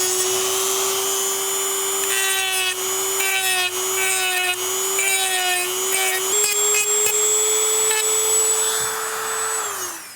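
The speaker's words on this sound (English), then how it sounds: "So I'm going to grind this stuff off. I'm going to turn it up a little bit more." A Dremel rotary tool grinding material off a Seaview model build, a loud, steady high-pitched whine with a sustained tone that shifts in pitch as the part is worked, alone for about ten seconds.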